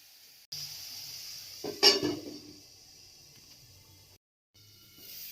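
Methi leaves with turmeric and salt being stirred in a pan, a quiet sizzle broken by a sharp spatula clack and scrape in the middle, close and with no talk.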